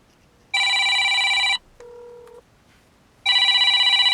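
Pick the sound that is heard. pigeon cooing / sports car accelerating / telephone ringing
telephone ringing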